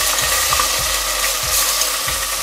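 Onions frying in oil with ginger-garlic paste in a pan for egg biryani, a steady broadband sizzle with occasional soft stirring knocks, close and continuous throughout.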